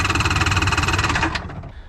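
A 1996 Polaris 780SL jet ski two-stroke engine cranking on starting fluid, a loud rapid rhythmic chugging that runs steadily for over a second, then falters and fades without catching.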